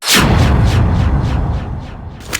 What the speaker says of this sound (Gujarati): આ તો બોમ્બ હતો.